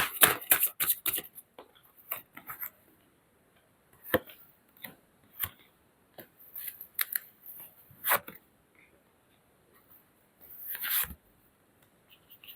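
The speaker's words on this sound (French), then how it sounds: "Je vais tirer une autre carte là-dessus" Tarot cards being shuffled and drawn, a run of quick dry flicks and slaps in the opening seconds, then scattered crisp card snaps and rustles at close range with quiet gaps between them.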